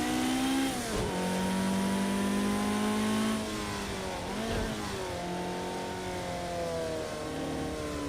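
A Ferrari road car engine in Project Cars 2 revs hard, rising in pitch, dropping sharply at shifts around one and four and a half seconds, then climbing again, loud and close without speech.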